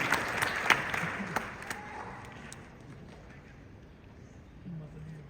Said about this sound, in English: Let's give a great round of applause to our special community leader